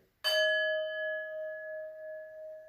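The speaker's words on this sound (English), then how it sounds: "We'll end with a nice bell sounding" A yoga timer bell strikes once, its bright clear tone ringing out and slowly fading over a couple of seconds in a quiet room.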